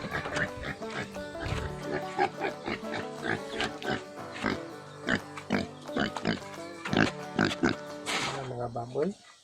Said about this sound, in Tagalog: Mga baboy.